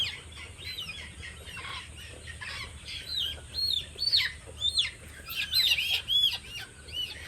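Sonali, Fayoumi and colour bird chickens cluck and chirp continuously in a farm setting during weighing, with overlapping high calls that grow busier toward the end, close by and with no talking.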